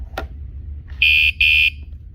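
A kayak security alarm gives two loud, flat buzzes in quick succession, each lasting about a quarter second, after a faint click.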